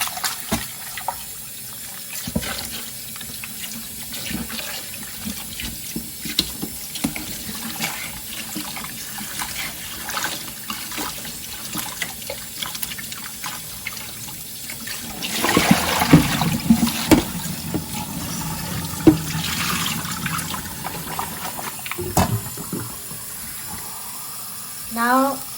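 Cut potatoes are rinsed in a bowl under a running tap, water trickling and splashing steadily with louder sloshing toward the end, and a voice talks over it at times.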